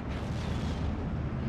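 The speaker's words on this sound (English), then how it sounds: "I think he's being hit by Panzerwerfer is pretty hard." Heavy, continuous rumbling explosions from Panzerwerfer rocket artillery in Steel Division: Normandy 44, a dense low roar of blasts crowding together with no pauses, loud and close, no voices.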